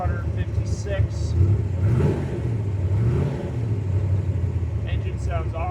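A Factory Five MK4 Cobra replica with a fuel-injected 427 V8 and 5-speed manual runs with a deep, rumbling idle that swells into a few revs, while someone talks over it.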